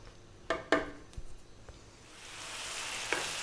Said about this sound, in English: I want to cook this meat for about 6 minutes